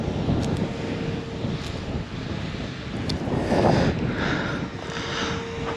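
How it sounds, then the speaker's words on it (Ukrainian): Strong wind gusting across an open field during sowing with a tractor and seeder, a loud continuous roar buffeting the microphone throughout, with no voices. "Ну вітер просто, просто жах, голову зносить"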